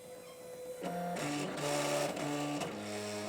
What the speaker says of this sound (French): Et je vais lancer donc l'estampage.